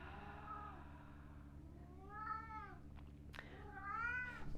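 A house cat meows twice during a yoga class, each cry rising and falling, close and clear against faint background hum, with a short sharp knock between them.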